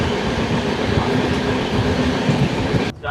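Train running through a mountain tunnel on the way toward the Spiti Valley, a loud continuous close rumble and rattle of wheels on rails that cuts off sharply at the very end.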